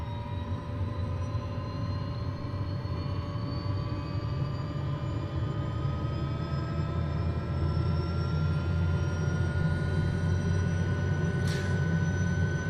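Engine of an SA315B Lama helicopter starting up in Microsoft Flight Simulator, a steady droning whine with slowly rising tones, loud and continuous throughout with no talking.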